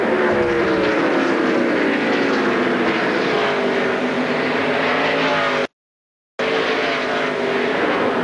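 Stock cars racing on the final lap of the 2002 Chevy Monte Carlo 400 at the Richmond oval, a loud continuous roar of engines with rising and falling pitch as cars pass, briefly cut out near the end.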